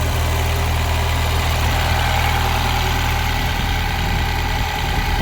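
Citroen DS3 with a performance map idling on a cold start at a fast idle, a loud, steady engine drone close by that does not vary, with no talking.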